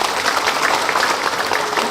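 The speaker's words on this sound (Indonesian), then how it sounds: "Tepuk tangan untuk beliau." Audience applause for a speaker introduced as Indonesia's Deputy Minister for Migrant Worker Protection at a pre-Ramadan Muhammadiyah religious gathering, a steady, dense wash of clapping hands filling the short stretch.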